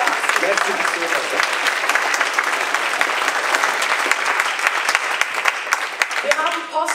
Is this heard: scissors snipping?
no